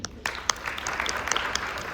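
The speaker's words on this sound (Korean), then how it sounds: "박수로 환영해 주십시오" Steady applause from a forum audience greeting a party leader and lawmaker at the TV CHOSUN Global Leaders Forum on AI and industry; dense, even clapping fills the hall for two seconds with a few sharper claps standing out.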